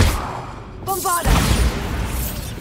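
A Bombarda blasting spell explodes in Hogwarts Legacy, a loud broadband burst with a rumbling boom and sparkling ringing tones, followed by lingering crackling debris noise.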